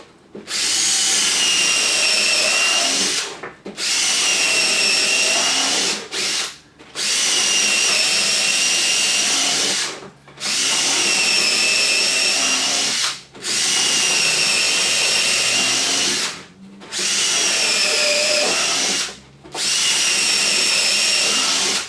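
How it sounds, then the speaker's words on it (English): A power drill whines steadily in repeated bursts of about three seconds, boring holes into plywood with brief pauses between holes, close and loud. "I'm going to use the drill and drill just a lot of holes"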